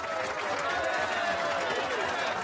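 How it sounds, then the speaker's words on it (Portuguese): An audience applauds a guest at a Brazilian talk-show event, a dense, continuous wash of clapping with crowd noise and voices mixed underneath. "Uma salva de palmas,"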